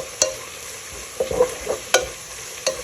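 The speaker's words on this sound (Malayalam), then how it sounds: "അതിലേക്ക് നമ്മൾ അരിഞ്ഞു വെച്ചിരിക്കുന്ന 3 പച്ചമുളക് അതിനെ സ്ലൈസ് ചെയ്ത് നമ്മൾ ചേർത്ത് കൊടുക്കുന്നു" Sliced green chilies stir-fry with onions in a pan, giving a soft sizzle broken by several sharp spatula clacks against the pan, close and moderately loud.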